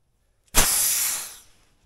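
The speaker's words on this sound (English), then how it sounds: "That was just some residual air in the hose." Leftover compressed air bursts from a compressor hose after tire inflation, a single sharp hiss that starts abruptly, holds for about a second, then tapers off.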